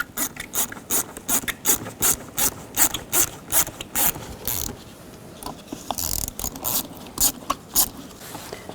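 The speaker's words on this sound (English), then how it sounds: "Now loosen up these worm clamps. Use a 7mm socket or a straight blade screwdriver." Ratchet with a 7mm socket loosening the intake worm clamps on a 2010-16 Buick LaCrosse, giving steady rapid clicking in close repeated strokes with a short pause partway through.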